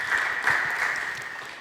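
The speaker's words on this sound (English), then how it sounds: "Please clap for yourself in the first place." Audience applause at an East Africa art, meet and meat extravaganza evening event, a steady dense wash of clapping at moderate level that slowly fades over under two seconds, with no voices over it.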